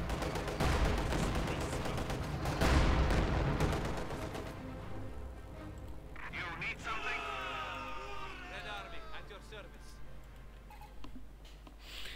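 Rapid gunfire and explosions from a tank and infantry battle in Company of Heroes 2, loud and dense for the first few seconds, then thinning to scattered shots and ambient battle noise under a commentator's voice.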